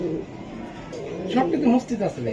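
A racing pigeon coos to its mate in low, throaty pulses, close by and partly mixed with a voice talking over it.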